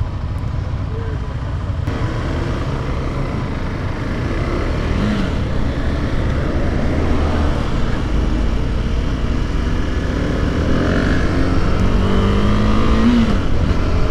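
2021 KTM 390 Adventure motorcycle on a demo ride, with continuous engine drone and rushing wind from on board, rising and falling with throttle, no speech over it.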